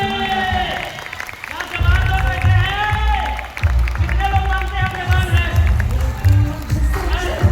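An audience at an award show in Bhagalpur claps and cheers in bursts, with a host's amplified voice talking loudly over the applause throughout.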